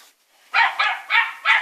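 A small dog barking indoors at home, four sharp, close, evenly spaced yaps in quick succession.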